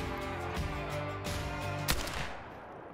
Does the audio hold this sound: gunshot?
yes